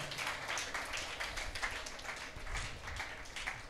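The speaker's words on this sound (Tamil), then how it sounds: "நல்ல கைத்தட்டு." A church congregation claps hands together during a Sunday service, a dense, steady patter of many palms heard faintly and at a distance, with no voices over it.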